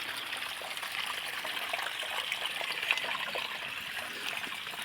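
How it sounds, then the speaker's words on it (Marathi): Hot spring water at Unhavare near Mandangad trickles and flows out in a steady, soft continuous stream, with no voices. "ह्याच्यामधून गरम पाणी येते."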